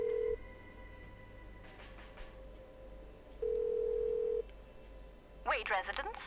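Telephone keypad tones sound in the point-and-click adventure game Kathy Rain, with two distinct dialing beeps separated by a quiet hum, followed by a short burst of speech at the end.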